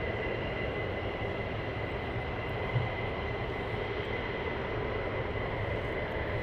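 Military jet aircraft taxiing at RAF Lakenheath during surge operations, a steady distant engine roar and whine that holds evenly throughout, heard alone without voices.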